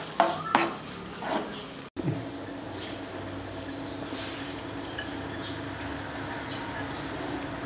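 Tomato paste cooking and being stirred in a pan for a tomato and soybean pickle, a few spoon clatters at first, then a steady soft sizzle throughout.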